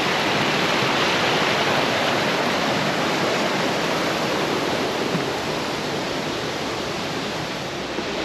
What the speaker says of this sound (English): that flooded creek is Sailor's Creek. And that falls is the big one. With all the noise